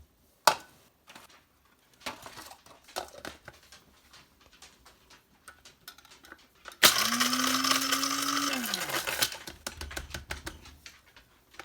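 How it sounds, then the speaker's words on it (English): A spice grinder pulverises dried bananas into powder in one loud, whirring burst of about two and a half seconds, with a motor pitch that rises slightly before cutting off. Scattered taps and clicks come before it and a faint tail follows. "I have my spice grinder."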